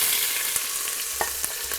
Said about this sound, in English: I'm going to go ahead and add some onion as well as some garlic in my pot here.